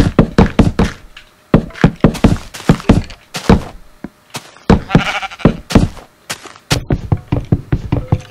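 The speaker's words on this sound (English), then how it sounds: "Get off my house, sheep." Sheep in the video game Minecraft bleat amid a rapid series of hard blocky thunks and knocks, loud, close and irregular throughout.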